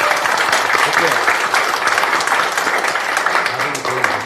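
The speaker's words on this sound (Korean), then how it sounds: "예, 박수 좀 부탁드리겠습니다." Applause from a crowd at a Korean political party event in Pyeongtaek for an arriving party supreme council member, a dense steady wash of clapping throughout at close range, with speech faintly under it.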